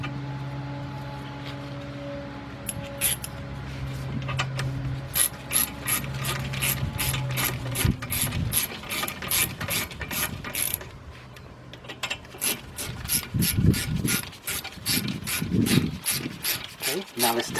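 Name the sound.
starting bolts on Volkswagen Beetle brakes with a ratchet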